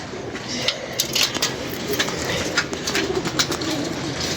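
Pigeons coo softly in an outdoor setting, with scattered flutters and clicks over a continuous background rumble.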